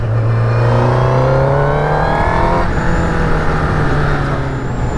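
A brand-new 2019 Honda CBR1000RR Fireblade motorcycle with its standard exhaust runs loud and close, the engine note climbing steadily through a rev before dropping back and rising again, no voices over it.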